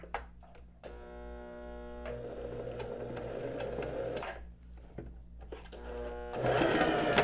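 A sewing machine stitches fabric, sewing a dart on a basic blouse: short runs of buzzing motor whine separated by brief pauses, close and clear, with no talk.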